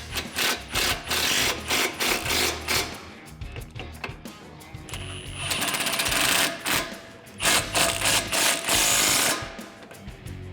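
An impact or power wrench tightens 15mm factory bolts on a coilover kit for a 2005-2014 Mustang GT, with loud rapid rattling bursts separated by brief pauses and one longer whirring run near the middle.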